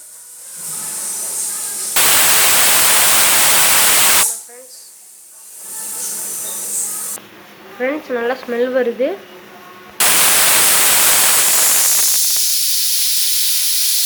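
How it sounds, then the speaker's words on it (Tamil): Pressure cooker making cabbage pulao lets out loud bursts of hissing steam and whistling, two long blasts separated by quieter stretches where a voice speaks. "இந்த ஸ்டேஜில் குக்கரை விசில் போட்டு முடிச்சிடலாம்."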